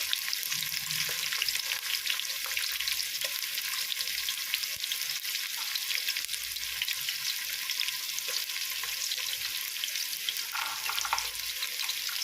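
Onions fry in oil with cinnamon, cloves and cardamom for a pea and coconut milk cooker rice, giving a continuous even sizzle with occasional faint stirring, steady and close throughout, with no talking.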